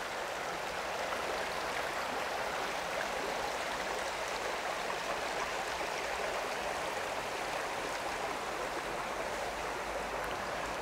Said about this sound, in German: Ja, und hier geht es jetzt so schön an einem Bach entlang.